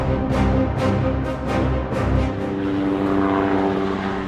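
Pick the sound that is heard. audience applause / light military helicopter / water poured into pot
light military helicopter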